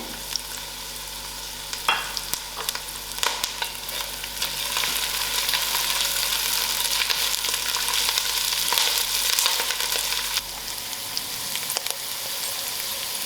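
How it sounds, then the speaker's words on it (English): Browned onions with black pepper, garlic, chilies and thyme fry in a pot as a lamb stew base, a loud continuous sizzle broken by sharp spoon scrapes and clatters, close up and without speech. "Now my onions and the rest of the ingredients are fried out."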